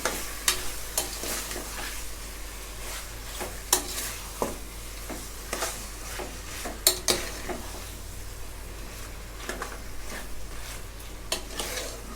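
Mutton for a Saoji curry sautéing in a pan over a high flame: a constant sizzle broken by scattered clinks and scrapes of a metal spoon stirring against the pot.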